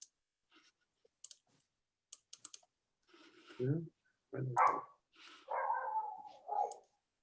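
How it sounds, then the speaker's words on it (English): A mixed-breed dog barks a few times in a played video, faint and distant. The barks follow quiet scattered clicks, and some soft talk is heard nearby. "This is our dog Barney."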